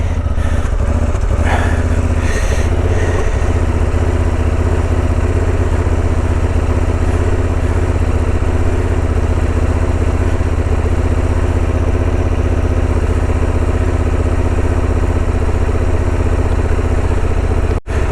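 A Honda Transalp 750 motorcycle engine idles loud and close during off-road riding, a steady low rumble holding unbroken for the whole stretch with a few faint knocks near the start.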